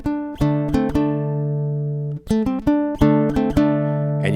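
A baritone ukulele plays the vamp from a song: bright strummed chords in short rhythmic bursts, a held chord ringing in the middle, then another run of quick strums, close and clear.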